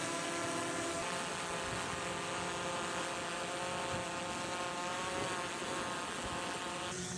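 Drone carrying a TINAMU RMS LiDAR scanner flies nearby, giving a steady continuous whirring hum of rotors that stays even for several seconds with no talk.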